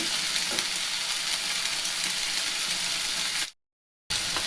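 Vegetables being tossed and stirred in a pan with chaat masala and a little tomato sauce, a steady sizzle and scraping that runs continuously and fairly loud, then cuts out briefly near the end.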